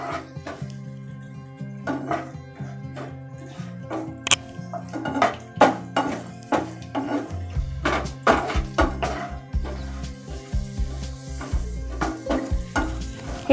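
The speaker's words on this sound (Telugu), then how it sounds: "ఇప్పుడు ఇందులోనే కొంచెం కిస్మిస్లను యాడ్ చేసుకొని వీటిని కూడా ఫ్రై చేసుకోవాలి" Raisins frying in ghee with cashews in a pan, soft sizzling under a repeated rhythmic clatter of a spoon stirring against the metal, moderately close with no talk.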